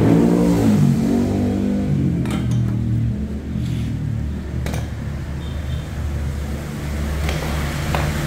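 Honda Brio automatic engine fitted with a new full-system exhaust and replacement muffler, revving steadily with a deep, loud drone that swells and eases over several seconds, heard close up.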